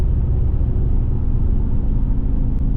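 A Dodge Scat Pack accelerates at full throttle, producing a loud, steady, deep engine roar that stays dense and constant throughout, heard from inside the car with no talking.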